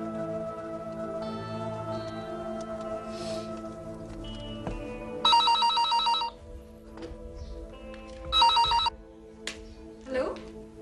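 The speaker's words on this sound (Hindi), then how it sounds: "मेरा तो ख्याल था कि अब तुम्हारी जगह शेरजान फोन उठाता होगा।" An old-style telephone bell rings in two bursts, the first about a second long and the second shorter, amid soft background tones and scene sounds from an old PTV drama.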